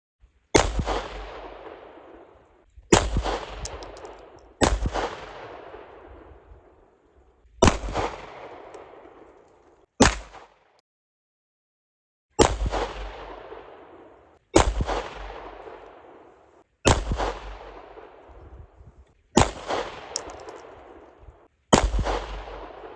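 Shots from an RIA 5.0 pistol at a shooting range, nine loud, sharp reports at roughly even intervals with ringing decay after each, one longer gap midway, and no talking.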